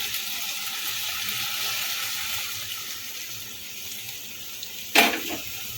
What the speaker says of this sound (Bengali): এখন এর মধ্যে দিয়ে দেবো গরম জল